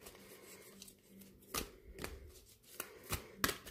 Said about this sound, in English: I hate shuffling this deck.